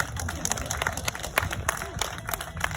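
An audience applauds at the Concours d'Élégance in Biarritz beside a unique Delahaye 135 Faget-Varnet classic car, with dense, moderately distant clapping and a voice speaking under it.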